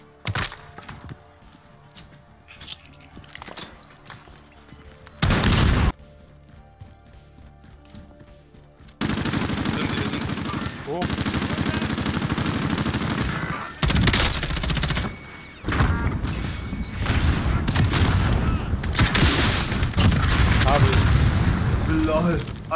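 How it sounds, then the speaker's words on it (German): Gunfire from a high-rise in the video game Warzone: sparse shots at first, then sustained loud bursts of rifle and machine-gun fire with crackling impacts, while players talk over it. "Die schießen vom Hochhaus."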